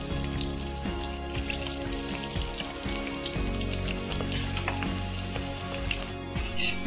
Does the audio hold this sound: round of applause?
no